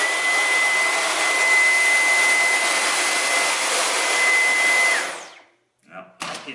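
A Dyson V11 cordless vacuum cleaner running in boost mode gives a loud, steady, whining roar for about five seconds, then cuts out and is followed by a few short, quieter bursts.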